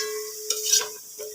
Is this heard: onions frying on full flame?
yes